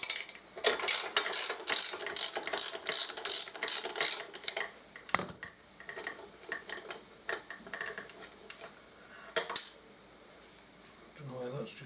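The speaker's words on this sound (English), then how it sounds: "I'll undo these rear" A ratchet wrench clicks in quick bursts undoing the rear cylinder head bolts on a Harley-Davidson Deuce during a trike conversion, the rapid ticking loud and close, easing into sparser clicks and a few metallic knocks.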